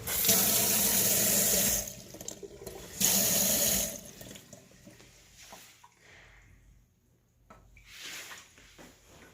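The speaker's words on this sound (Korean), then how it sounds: "싱크대 물 한번 볼까요?" A kitchen sink faucet in a newly built high-floor studio apartment runs loudly in two strong gushes, then drops to a softer trickle with faint handling clatter.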